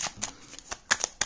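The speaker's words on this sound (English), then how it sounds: "I'm going to shuffle these cards" Tarot cards being shuffled by hand in short crisp riffling bursts with brief pauses between, close and fairly quiet.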